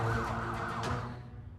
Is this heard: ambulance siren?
yes